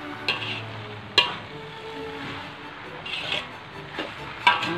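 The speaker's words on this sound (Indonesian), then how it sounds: "Senang je kan buat kuih tiaw goreng." Kuey teow noodles are stir-fried in a pan with soft scraping and tossing, a low sizzle throughout and a few sharp clinks of the utensil against the pan.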